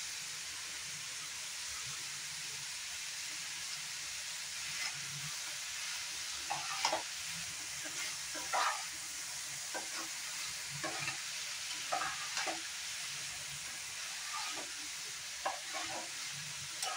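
Chopped capsicum sizzles in a hot pan over a steady frying hiss, with a utensil scraping and stirring at irregular intervals, close and moderately loud.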